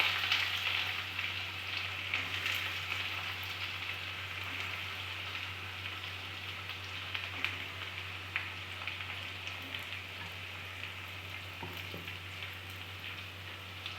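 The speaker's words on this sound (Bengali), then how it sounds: "এবার এই পেঁয়াজটাকে ভাজতে হবে, খুব ধৈর্য ধরে পেঁয়াজটাকে অনেকক্ষণ ধরে এটা ভাজতে হবে।" Chopped onions, added with a bay leaf and a dried red chili, fry in hot oil for Bengali mutton kosha, giving off a steady, dense sizzle like light rain that holds evenly over a low background hum.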